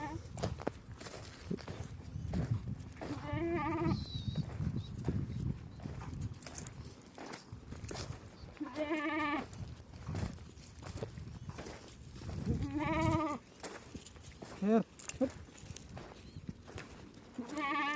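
Several goats, including pregnant Kathiawadi does on a goat farm, bleat in short wavering calls scattered across the scene, with hoof clatter, shuffling and a person talking in the background.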